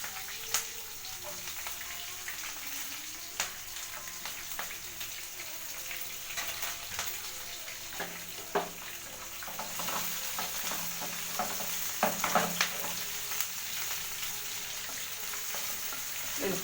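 Curry leaves, green chilies and onion fry in a pan with a steady low sizzle, broken by frequent scraping stirs and small pops, fairly faint and close.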